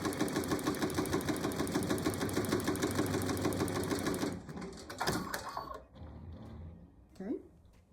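A home embroidery machine stitching a pocket pouch runs with a fast, even mechanical rattle for about four seconds, then stops, leaving scattered clicks, handling noises and a brief voice.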